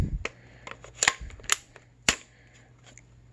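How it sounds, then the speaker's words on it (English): Close, quiet clicks and metallic clacks as a magazine is handled and seated into a police duty rifle, a few sharp snaps spread over about three seconds. "I'm going to put this magazine into the rifle."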